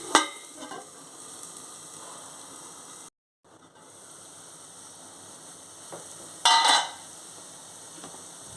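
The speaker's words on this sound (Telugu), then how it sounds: "ఇప్పుడు ములంకాడ ముక్కలు వేసేసుకుందాం జాగ్రత్తగా ఒకసారి కలుపుకుందాం" Drumstick pieces drop into a simmering drumstick-tomato curry and get stirred through it in a pan, with a steady sizzle, a couple of scraping stirs, a brief quiet gap and a louder clatter near the end.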